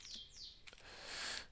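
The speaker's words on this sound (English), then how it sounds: "You probably heard the bird singing in the background." A bird chirps and sings softly in the background, faint high tweets repeating over quiet room noise.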